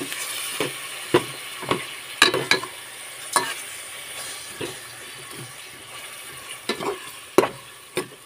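Chicken sautéing with ginger in a pan for chicken tinola, a low background sizzle broken by repeated sharp clatters and scrapes of a utensil stirring against the pan.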